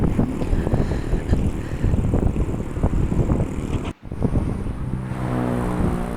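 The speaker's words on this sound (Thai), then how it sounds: "เสียงลมแห้งๆ" Dry wind gusts over open rice fields buffet the microphone with a loud, rough, steady rumble, broken by a brief gap partway through.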